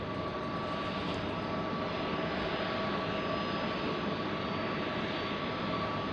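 Steady roar of a Malaysia Airlines jet departing Sydney Airport runway 16 right on a foggy night, a sustained engine rumble with a faint high whine, loud and continuous throughout.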